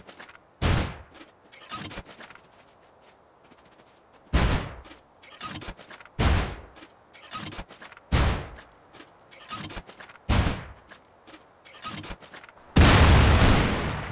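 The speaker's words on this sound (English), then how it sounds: "So now we're going to use the high velocity rockets." High velocity rockets slam into a stone wall in Rust, about eight separate loud blasts spaced one to two seconds apart, each a sharp boom with short decay, ending in a longer rumbling explosion.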